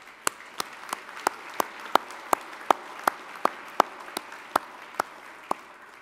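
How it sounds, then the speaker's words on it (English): Meeting attendees at a national association's annual meeting clap in an even, steady rhythm, sharp distinct claps repeating about three times a second over a faint background wash. "Let's give them a round of applause."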